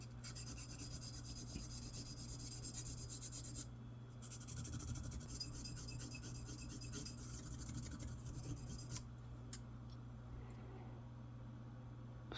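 Abrasive sanding strokes on the metal of a SWICK Jacknife lockpick tool, pressed down with a dowel: a steady rough rubbing rasp that runs continuously at close range, pausing briefly partway through over a constant low hum.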